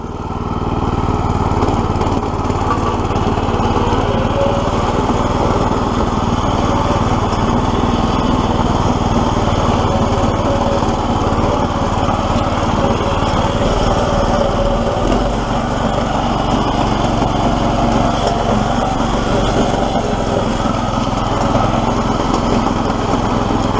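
A small 212 engine on a homemade tractor runs steadily with a buzzy, lawn-mower-like drone, loud and close, holding a constant pitch for the full length with a slight shift partway through.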